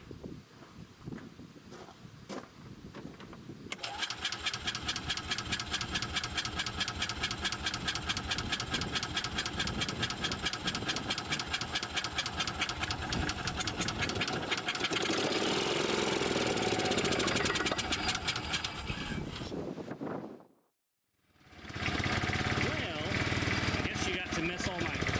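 A Bobcat Pioneer utility vehicle engine with a poorly tuned carburetor cranks, catches and runs rough with an uneven, knocking idle, briefly cutting out before restarting, close, with people talking over it.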